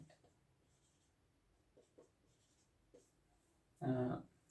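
A pen writes an electric field equation in faint, quiet scratching strokes spaced a second or so apart, ending with a brief louder burst of voice.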